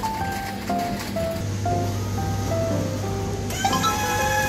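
A coffee vending machine paid for with a smartwatch prepares a drink, giving a series of short electronic tones over a steady mechanical hum and whir, then a brighter tone as it finishes.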